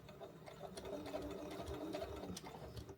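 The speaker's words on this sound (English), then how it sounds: "back stitching" A sewing machine back stitching on a sock toy, a steady close-up mechanical whir with rapid needle ticks for a few seconds, quiet and alone.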